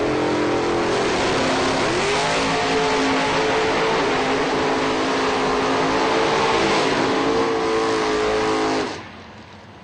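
Two drag racing cars launch hard from the starting line at a strip, with a loud, sustained engine roar for about nine seconds that cuts off abruptly near the end.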